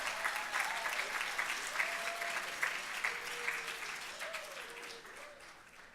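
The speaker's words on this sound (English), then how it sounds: "Let's give him a hand." Applause from an awards-show audience at the 2017 HAL Awards, steady dense clapping that holds throughout and slowly tapers off, with a faint voice or tone faintly audible beneath it.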